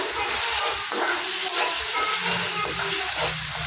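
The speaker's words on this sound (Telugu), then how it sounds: "ఇప్పుడు టమాటాలు వేద్దాం. కొద్దిగా ఫ్రై అయ్యాక" Chopped tomatoes fry in a pan for a fish curry, giving a loud, steady sizzling hiss with bubbling and occasional stirring scrapes, close up and continuous, with no voice.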